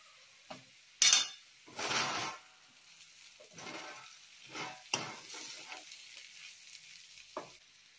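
Spoon scrapes and stirs a raw banana stir-fry with crushed peanuts in a pan, with a few sharp clinks and scraping strokes over a low sizzle and no voices.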